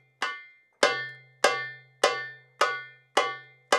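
Seven bright, ringing darbuka strokes played near the rim, tek and ka hits evenly spaced about every 0.6 seconds, each sharp attack fading with a short metallic ring, close and alone with no talking.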